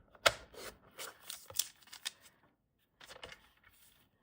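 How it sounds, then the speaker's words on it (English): Scissors snip a butterfly shape out of a gel print, a quick run of crisp paper cuts, a short pause, then a few more snips up close. "now I want to cut off the butterfly"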